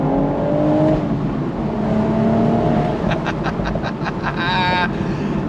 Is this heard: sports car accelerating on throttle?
yes